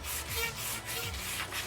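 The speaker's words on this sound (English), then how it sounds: "The whole purpose of the sanding is just to kind of smooth it off." Sandpaper rubs back and forth over a handmade mace to smooth its surface, making a quiet, close, rhythmic scratching with several strokes in quick succession.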